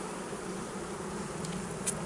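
Honey bees swarm around an opened hive with its super lifted off, a dense, steady buzzing drone that holds evenly throughout, close and continuous with no talk.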